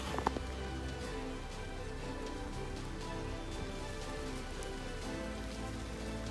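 Steady rain falls on surfaces with a dense, even patter and scattered close drops throughout, and no voices.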